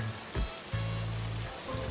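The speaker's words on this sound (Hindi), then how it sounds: "बारिश हो रही है" Steady rain pours at a railway station in cold weather, a dense, even wash of falling water with a low droning hum underneath, continuous and fairly soft throughout.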